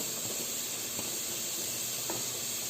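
Finely diced brunoise onion hits melted butter in a pan, giving a continuous soft hiss of frying that stays even and fairly quiet throughout, with faint background clicks.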